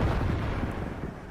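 A tank cannon fires in World of Tanks during a battle on the Kharkov map, a deep booming blast with a rumbling low tail filling the short moment, heard alone without voices.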